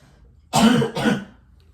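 A single person clears their throat and coughs twice in quick succession, close and fairly loud, then silence.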